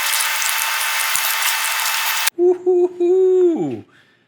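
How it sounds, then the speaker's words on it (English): An epoxy resin skull is pressed against a belt sander, giving a loud, close, broadband grinding hiss for a couple of seconds, followed by a motor whine that drops in pitch as it spins down. "Putting this on the belt sander will take that right down"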